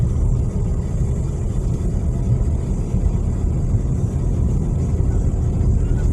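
A car travels on the road toward Kremenchuk in the daytime, a steady broadband rumble of engine and tires throughout, constant and fairly loud with no speech.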